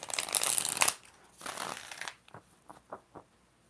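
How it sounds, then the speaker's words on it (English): Deck of tarot cards shuffled by hand, two brisk riffling bursts, then several crisp taps as the cards settle, close to the microphone with no talking. "1 more shuffle."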